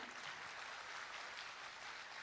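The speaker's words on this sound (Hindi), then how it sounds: "मैं चाहूंगी कि एक बार जोरदार तालियां बजा दी जाएं" A crowd applauds at a public event on a government scheme, a dense, even clapping heard faintly and steadily throughout with no other sound standing out.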